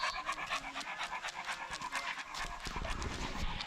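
A dog panting close by outdoors on a fishing trip, rapid rhythmic breaths repeating steadily, joined near the end by shuffling and rustling movement.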